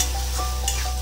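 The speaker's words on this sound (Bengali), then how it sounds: "সয়াবিনটাকে এইভাবে তেজপাতা আর ডালচিনি দিয়ে একটু ভাজলে সয়াবিনের টেস্টটা ভালো হয়" Soybean chunks frying with bay leaf and cinnamon in a wok, a close, continuous oily sizzle with stirring scrapes over a low background hum.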